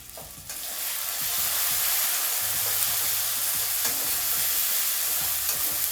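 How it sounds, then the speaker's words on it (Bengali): Masala with salt, turmeric and a little sugar frying over low heat for a Bengali katla fish curry, a dense continuous sizzle with stirring scrapes and occasional spoon knocks, close and steady. "এই মশলাটা যখন ভাজবেন অবশ্যই হিটটা একটু কম রাখবেন"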